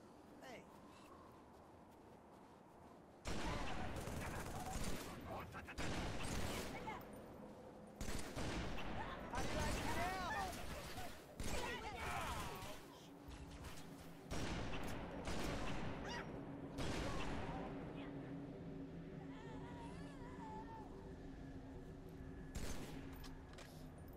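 Sustained gunfire in the Halo 3 video game on the Ark level, with bursts of shots and blasts filling most of the stretch at steady loudness while a voice talks over parts of the combat.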